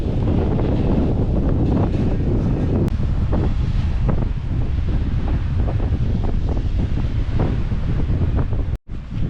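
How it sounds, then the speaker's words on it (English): Steady, heavy wind buffets the microphone on a bridge throughout, a constant roaring rumble with gusty swells, briefly cutting out near the end. "Why is it spookily windy here all of a sudden?"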